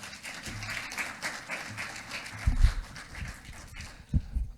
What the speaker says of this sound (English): help me by giving him a warm round of applause